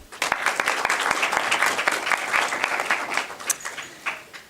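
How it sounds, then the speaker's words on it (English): An audience at a live campus event on the TUT Pretoria campus applauds, a dense, sustained clapping from many hands that holds for several seconds before thinning out toward the end. "Let's give him a round of applause."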